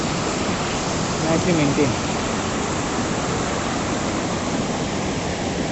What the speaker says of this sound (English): So now we are going ahead up to the waterfall